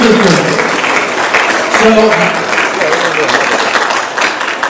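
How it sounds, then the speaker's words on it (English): Applause at a school district Hispanic Heritage Month presentation honouring the board vice president, a sustained wash of clapping with a voice speaking briefly at the start and faint chatter underneath. "So a round of applause for her, for everything she does, volunteering her time for the school district."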